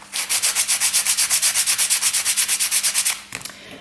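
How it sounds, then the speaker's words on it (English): Sandpaper scrubs back and forth over a metal jewelry piece with a crushed stone inlay, about two dozen quick, even, raspy strokes close up, then a few scattered scrapes. "you can also wrap sandpaper around anything rigid, like another file or a wood block"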